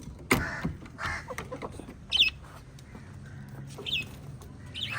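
Chickens cluck and squawk in short bursts close by, with a few sharper cries standing out over a busy farmyard background.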